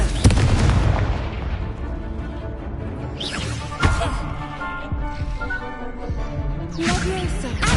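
Confringo spell explosions in the video game Hogwarts Legacy, a series of heavy booms and blasts over rumbling game music and effects, with a game voice speaking briefly between the impacts.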